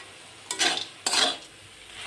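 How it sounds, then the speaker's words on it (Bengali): Carrot halwa with raisins and nuts being stirred in a pan, two short scraping sweeps of a spoon against the metal, close by, with a faint sizzle in the quiet between. "এখন একটু ভালো করে নাড়িয়ে নেব"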